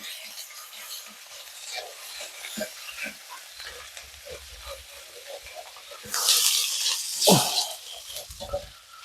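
Squid being stir-fried with chili curry paste in a pan, with soft scraping and stirring that builds into a brief louder sizzle near the end.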